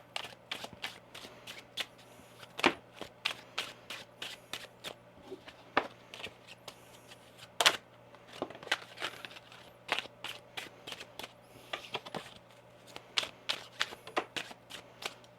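A deck of tarot cards is shuffled in quick, crisp riffles and taps that repeat in an uneven rhythm, close and fairly quiet against a faint steady hum.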